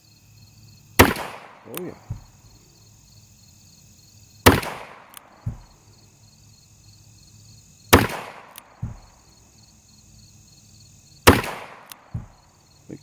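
A Ruger New Model Single Six revolver fires four evenly spaced sharp shots at an outdoor pistol range, each crack followed by a short echo. Someone speaks briefly between shots.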